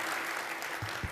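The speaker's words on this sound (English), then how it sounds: "we give the Just Three Singers another round of applause" Brief burst of audience applause at an opening welcome event, dense clapping from a crowd heard at moderate level.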